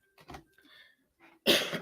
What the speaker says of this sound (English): So that's why I'm doing all this coughing.